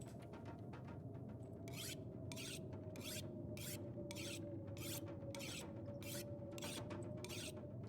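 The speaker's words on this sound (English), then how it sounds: "Why don't we sharpen our axe," An axe being sharpened in the survival game The Long Dark: regular rasping file strokes, about a dozen evenly spaced, scraping over a steady low wind-like game ambience with no talk.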